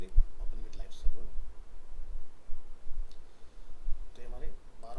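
A computer mouse gives a few separate, sharp, fairly faint clicks spaced a second or more apart, with quiet speech nearby.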